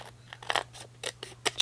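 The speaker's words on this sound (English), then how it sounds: "And I'm going to go ahead and just use my scissors once again" Scissors trim card paper in a quick series of close, crisp snips and crunchy cuts, with a faint steady hum underneath.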